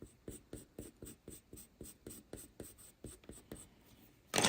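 Coloured pencil glazing over paper while drawing a white cat's eye, a series of about fourteen evenly spaced scratchy strokes, close and quiet, followed by a brief louder rustle at the end.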